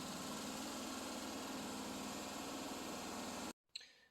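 John Deere Ztrak zero-turn mower engine running at a steady, loud drone with a constant low rumble, cutting off abruptly near the end before a brief restart of noise.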